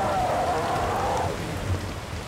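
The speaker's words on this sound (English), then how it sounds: "Why the hell is it always raining here anyway?" Steady rain falling in a rainforest, a dense hiss of drops on surfaces, loud and continuous with a faint murmur of voices beneath.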